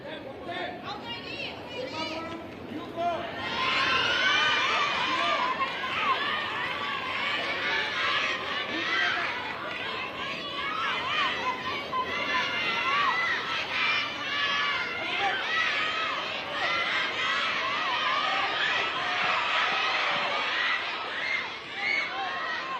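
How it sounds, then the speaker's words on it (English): Spectators at a women's 60 kg para judo preliminary bout at the ASEAN Para Games in Thailand scream and shout in support, a sustained noisy crowd din with excited chatter throughout. "That's what the screams are in the background."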